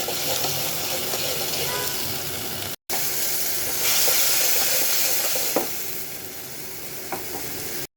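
Mixed vegetables, including beans, radish and potato, frying with turmeric powder alongside dried fish, give a continuous loud sizzle and hiss while being stirred, with occasional scrapes of the utensil and two brief dropouts.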